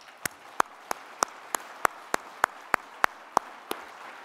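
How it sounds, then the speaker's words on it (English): An audience at a speech on Korean reunification gives a steady round of applause, with a continuous wash of clapping and one prominent pair of hands clapping close in a regular, even beat, without any talk. "Let's give them a round of applause."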